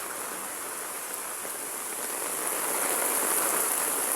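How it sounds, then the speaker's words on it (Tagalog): Heavy rain during a typhoon pours steadily outdoors amid flooding, a dense, close hiss that swells louder toward the end, with no voices. "Ang sobrang lakas ng ulan po mga guys."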